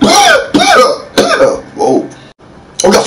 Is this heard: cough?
yes